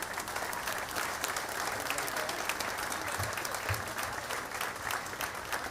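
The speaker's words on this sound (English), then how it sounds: "Round of applause." Steady applause from a crowd of US service members at a military gathering in Panama, sustained and evenly dense for several seconds with no break.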